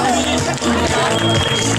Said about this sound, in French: On l'applaudit, la première féminine